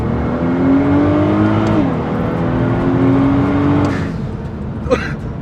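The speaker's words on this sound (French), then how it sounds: "C'est les dump valves en fait. Quand elle relâche, quand il y a la dépression en fait, elle lâche le surplus d'air en fait qu'il y a dans le turbo." Turbo dump valves on a 550 hp Nissan GTR hiss as they release air, over a loud, steady engine drone in second gear, with the rush tapering after about four seconds and a short sharp burst near the end.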